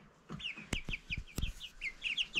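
Baby chicks cheep in short high repeated peeps, close and fairly soft, mixed with a few sharp knocks and bumps from the brooder.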